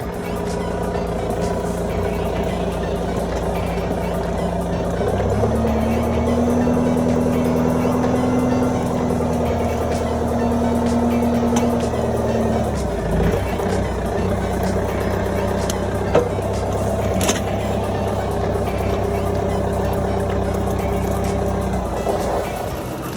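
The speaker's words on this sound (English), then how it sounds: "So we bought this used dirt digger truck for farm use." Used dirt digger truck working on a farm hauling logs, a steady diesel engine drone that rises and labors partway through, with clanks and a brief sharp knock near the end.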